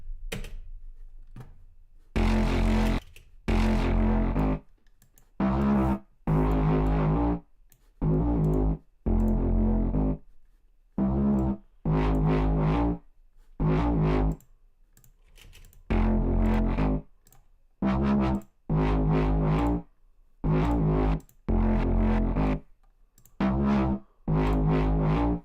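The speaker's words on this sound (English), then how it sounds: "We'll just filter the audio file and see what it sounds like when it's a bit more low passed" Short bursts of a muffled, distorted electronic sample, low-pass filtered, repeat in a choppy rhythm, separated by brief silences, with a dull, bass-heavy character.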